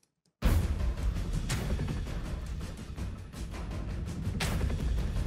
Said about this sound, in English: one of these big explosive sounds with quite a lot of room component